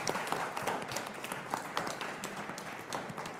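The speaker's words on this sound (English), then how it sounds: "one more clap, please" Audience applause at the close of a talk event, a dense patter of many hands clapping steadily and fairly close throughout, with no speech over it.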